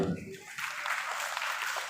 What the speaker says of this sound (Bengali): একটু জোরে করতালি চাই সবার কাছ থেকে যারা রয়েছে অডিটোরিয়ামে